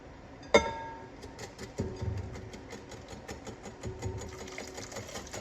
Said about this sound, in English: I'm just continuously whisking